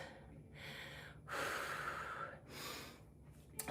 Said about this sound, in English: Deep breaths. Deep breaths.